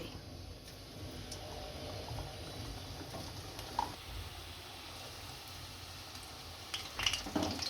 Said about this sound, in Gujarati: આપણા બધા વડા તૈયાર થઈ ગયા છે અને તેલ ગરમ થઈ ગયું છે। આ બધા તળી લેશું।